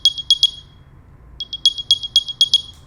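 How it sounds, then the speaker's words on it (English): AirPods Pro 2 charging case's built-in speaker playing the Find My locator sound: bursts of rapid, high, piercing chirps in quick clusters, a short gap, then another longer run of chirps, loud over faint background noise. "there is a brand new built-in speaker that projects a loud sound to help you"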